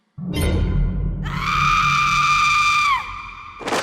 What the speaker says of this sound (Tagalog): Biglang sumigaw si nanay.